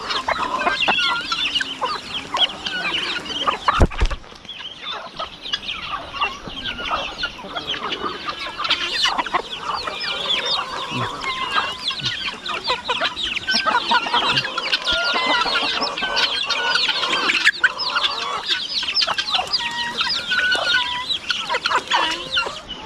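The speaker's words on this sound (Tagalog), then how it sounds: "Nakikain siya sa tayong mga alaga manok." Chickens cluck and chatter continuously nearby, with occasional louder squawks over a busy farmyard background.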